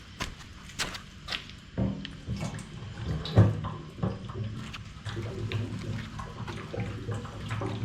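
Liquid sloshes and gurgles as it is poured into a 1965 VW Beetle fuel tank, with a low hollow rumble and a few knocks and clunks along the way.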